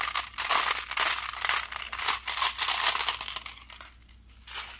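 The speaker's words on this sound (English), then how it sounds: "I have some metal marbles." Metal marbles roll and rattle down a music stand into a pan, making a dense, continuous clattering rush that is close and loud, thinning toward the end with a final short burst.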